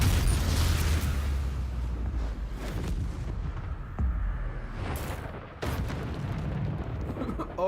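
Booming, explosive bursts from the Avada Kedavra killing curse in Hogwarts Legacy, several loud blasts and crackles in quick succession amid noisy game action, with a voice speaking over them.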